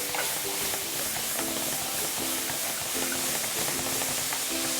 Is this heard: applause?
no